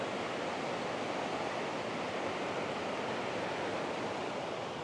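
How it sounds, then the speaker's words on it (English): A creek flows past a campground among trees in Colorado's Collegiate Peaks, giving a steady, soft, even rush of water with no other sounds. "just hearing the sound of the water, you know, the creek and all these trees"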